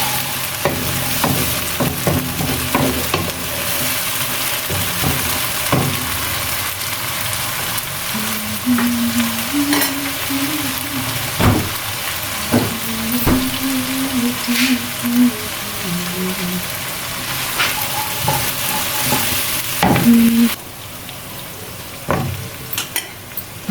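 Ginger-garlic paste fries with onions in hot oil, giving a steady close sizzle throughout, broken by the scrape and clatter of stirring and a few louder spoon knocks, with no talking.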